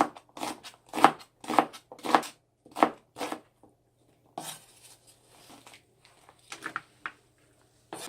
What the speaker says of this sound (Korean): 홍고추 파란 고추 이렇게 썰어주겠습니다